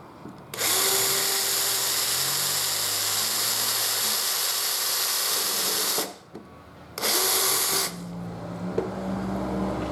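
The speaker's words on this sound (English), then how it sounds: "Drill from the other side." A power drill whines steadily and loudly while boring through a motorcycle tire-change fixture for a 2014 Yamaha FZ-09, stopping briefly, then running again in a shorter burst before cutting off to quiet workshop noise.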